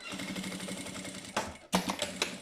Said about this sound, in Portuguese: Passar aqui uma costurinha